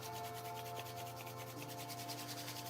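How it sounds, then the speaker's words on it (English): Palms rubbed together fast and continuously, a faint, steady dry swishing friction with no break or pause. "rub your palms again, even faster this time"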